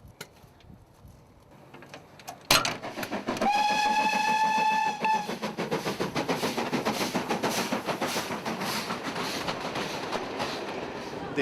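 A heritage railway train hauled by class 20 diesel locomotive 20020 starts with a sharp bang, sounds a sustained whistle, then settles into a rhythmic clickety-clack of wheels on rail, close and steady, with faint voices underneath.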